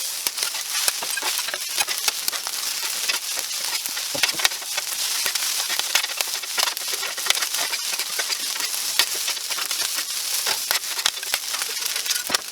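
Hibachi fried rice tossed with sauce on a hot griddle, sizzling and crackling steadily while a spatula scrapes and clicks in a busy, even rhythm with no pauses.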